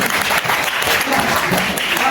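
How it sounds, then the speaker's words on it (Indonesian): A classroom crowd claps steadily in a brief burst of applause, dense and fairly loud, with some voices mixed in. "tepuk tangan dulu untuk"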